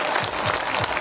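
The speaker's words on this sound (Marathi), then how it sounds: "एकदा त्यांच्यासाठी टाळ्या वाजवा बघा" Audience clapping during a Buddhist dhamma sermon, a dense burst of applause from a gathered crowd, loud and continuous across the short moment.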